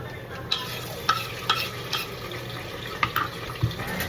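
Mussels sautéing in a pan, a low sizzle running underneath while a utensil scrapes and clacks against the metal every half second or so in uneven stirring strokes, close and fairly quiet.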